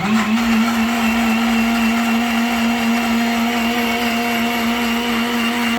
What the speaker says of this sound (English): I'm going to switch my blender on from the main